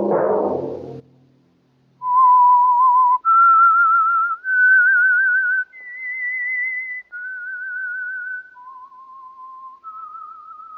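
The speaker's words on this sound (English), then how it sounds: "Let that whistle be your signal" A person whistles a slow, clear melody alone, held notes stepping up and down with a slight vibrato, after a short burst of noise, from a 1947 radio drama broadcast.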